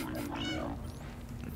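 A cat in the video game Stray gives a drawn-out, rising-and-falling meow over steady game background ambience, heard close and clear with no talking.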